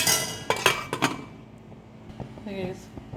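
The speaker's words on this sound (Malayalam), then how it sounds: "ഞാനിത് കുക്കർ അടച്ചു വെക്കുന്നു" A pressure cooker lid clanks shut with several sharp metallic knocks and clinks close up, followed by quieter rattling, while cooking beef curry.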